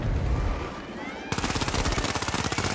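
M11 submachine gun in The Finals, a fast burst of rapid-fire shots in a tight, even rhythm starting partway through, preceded by quieter game ambience and a faint rising tone.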